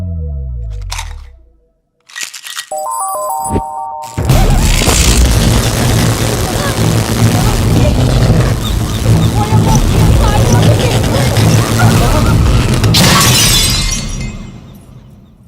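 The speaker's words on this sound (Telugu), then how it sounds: "నిజానికి జాతకం వల్ల లైట్లు పేలకూడదు" Lights burst and glass shatters in a comedy film scene: after a few sharp tones and a brief silence, a loud crash opens into a long, dense spray of breaking and crunching glass that gradually fades.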